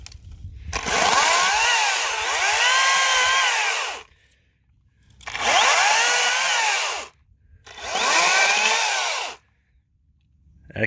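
A Makita 18-volt cordless chainsaw cuts through sand pine trees during pruning, running in three long loud bursts of buzzing motor and chain with pitch dips under load, separated by short pauses, close and steady.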